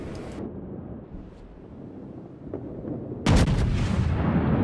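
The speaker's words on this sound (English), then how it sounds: "I take another salvo out towards him" A naval artillery salvo fires in the World of Warships game: a low rumbling backdrop, then a sudden loud, sharp cannon blast that rolls on into a sustained roar.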